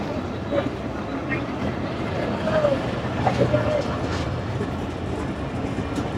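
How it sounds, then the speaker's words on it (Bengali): Mongla commuter train pulling away from Singia junction platform toward Benapole, heard as a steady rumble with faint rail clatter under a voice talking. "ছেড়ে গেল Mongla commuter train Singia junction থেকে তার গন্তব্য বেনাপোলের উদ্দেশ্যে"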